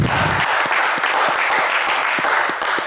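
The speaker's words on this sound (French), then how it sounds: "Allez, Samson, on vous applaudit également très fort." A studio audience at a French television game show applauds loudly and steadily, dense clapping that holds for the whole stretch with no one talking.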